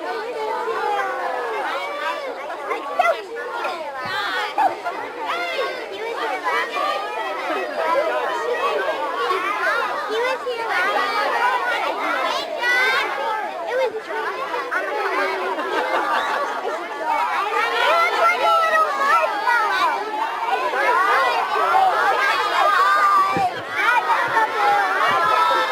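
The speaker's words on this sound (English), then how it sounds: "Such a great crowd of kids here" Children gathered at a summer camp chatter and call out over one another in a lively, steady babble, with bursts of giggling and shouts close by.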